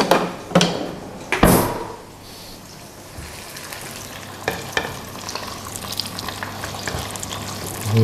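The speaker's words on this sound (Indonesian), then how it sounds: "Kenapa sih petenya harus ditumis dulu pakai minyak banyak?" Petai stink beans sizzle in plenty of hot oil in a pan, with a few loud scrapes and clatters of stirring at the start, then a continuous crackling fry.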